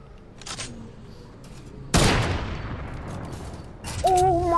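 A single sharp, loud shot cracks out in Fortnite, its boom trailing off over a couple of seconds, with fainter shots before and after and little talk.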